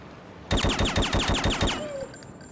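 Rapid burst of about eight gunshots from a pistol in Hitman: Codename 47, loud, evenly spaced and echoing, then a brief quiet tail.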